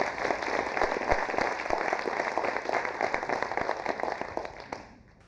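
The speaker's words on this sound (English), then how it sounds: "I like this audience because they clap before we even play." A concert audience claps steadily in a crowded hall before the music begins. The dense applause runs evenly, then fades out near the end, with no talk.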